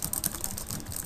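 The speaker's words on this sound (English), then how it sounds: "if we just keep typing away" Rapid, irregular clacking of keys on a computer keyboard, close and steady for the whole moment, with no voices.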